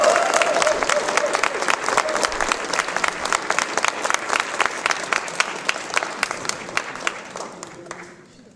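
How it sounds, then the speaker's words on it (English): An audience at a storytelling liars contest gives a long round of applause, crisp individual claps dense at first, then gradually thinning and fading away near the end. "Let's just a round of applause for all 6 of these tellers."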